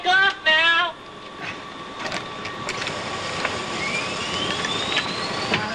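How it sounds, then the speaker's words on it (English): Airplane engines spool up on a plane about to take off: a steady broadband roar with a tone that rises slowly and steadily, following a short burst of other sound at the start. "There go the engines."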